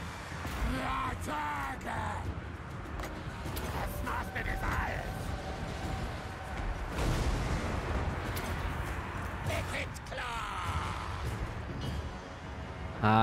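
Repeated booming cannon-like blasts with sharp impacts and crashes amid busy game action in Total War: Warhammer Immortal Empires, with a voice talking over parts.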